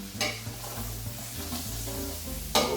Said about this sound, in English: And we're going to mix that up.